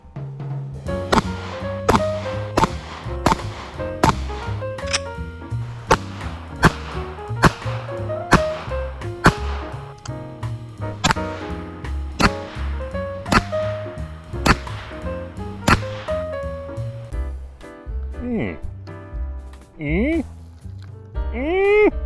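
Sharp gunshots from an NAA Mini Revolver crack out one after another in an irregular string, loud and close with short ringing tails, spaced by brief gaps and handling noise.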